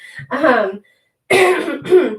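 Someone clears their throat and coughs in two rough, close bursts separated by a brief silence.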